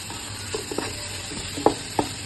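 Onions sautéing in a pan for chicken biryani, with a steady sizzle under a few sharp stirring scrapes and clacks of a spoon against the pan, close and clear, with no voices.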